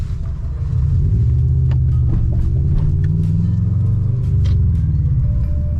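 A written-off Subaru, damaged and driven on the road with its steering wheel sideways, gives a steady low engine rumble and road drone inside the cabin, loud and continuous throughout, with light rattles and no talking.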